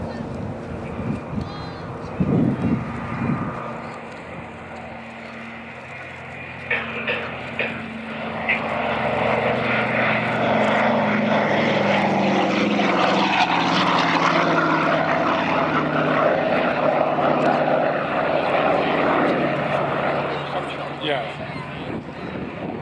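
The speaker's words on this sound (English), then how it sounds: "the Douglas Dakota 3." A Douglas Dakota propeller aircraft passes at an airshow, its piston-engine drone swelling from faint to a loud, close roar midway and then slowly fading, with brief crowd sounds early on.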